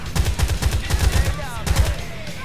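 Rapid automatic rifle fire from an M4 in GTA IV, a dense run of sharp, evenly spaced shots in quick bursts, loud and close, with a brief pause partway through.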